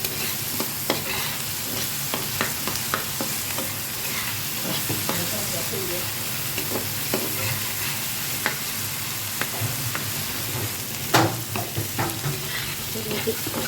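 Sliced onions and green chilies fry with salt and spices in a pan for fish kofta, sizzling steadily and loudly throughout, with frequent scraping and clinking stirs.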